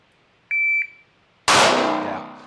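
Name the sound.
shot timer beep at shooting drill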